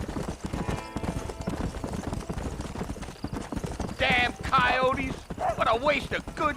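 Horse hooves clip-clop steadily in a riding scene from a video game, a continuous rhythmic trot under voices talking in the game.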